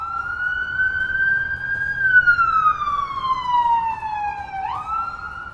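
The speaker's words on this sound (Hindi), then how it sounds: "यहाँ पर देखिए एक और फायर ब्रिगेड की गाड़ी यहाँ पर जा रही है।" Fire brigade vehicle siren in Tel Aviv, a loud wailing tone that holds and then slowly slides downward as it passes close by, over faint traffic rumble.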